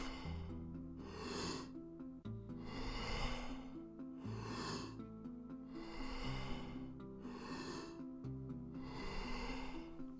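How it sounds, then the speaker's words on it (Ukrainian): Rapid deep breathing in the Wim Hof method: about five strong, evenly spaced inhale–exhale cycles, close and forceful, over a soft low musical backing with no talking. "продовжую без паузи між вдихом і видихом"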